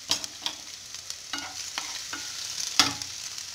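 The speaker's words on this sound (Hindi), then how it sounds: "तेल जैसे ही अच्छे से गर्म होगा तो इसमें हम अदरक लहसुन डाल देंगे जो हमने बिल्कुल बारीक काट के लिया है" Finely chopped ginger and garlic fry in hot oil over a high flame, giving a steady close sizzle broken by sharp stirring clicks and scrapes, with no talk.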